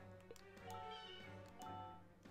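Cats meowing in the video game Rhapsody: A Musical Adventure, several drawn-out, tonal meows in succession, close and clear, with no talk over them.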